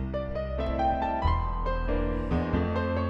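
An electronic keyboard plays a steady accompaniment pattern, bass notes and chords moving together in a smooth, even rhythm with no talking.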